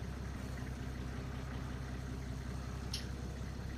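A truck engine idles steadily in Farming Simulator 19, a continuous low rumble with a regular throb that holds at an even level throughout, with no talk over it.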